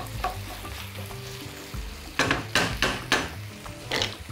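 Steady frying sizzle in a pan, broken by several loud scraping stirs and clanks of a utensil against the pan near the end.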